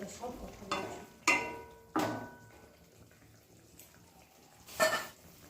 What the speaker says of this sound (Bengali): এবার একটু হালকা নাড়াচাড়া করে দিচ্ছি যাতে সব দিকটা ভালোভাবে সেদ্ধ হয়।